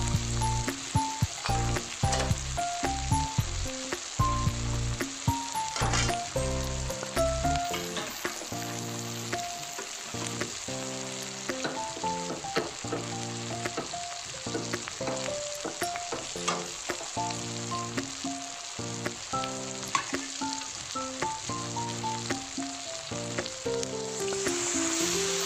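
Bengali spice masala for a fish-head cabbage dish, frying and being stirred in a pan: a continuous soft sizzle with scattered scraping, running beneath steady background music.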